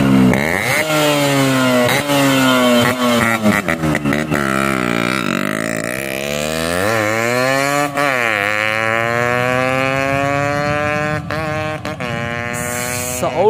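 Yamaha RX100 two-stroke motorcycle exhaust fitted with a brass core silencer, revving loudly and continuously with rising and falling pitch, close up, harsh and buzzing with no talk.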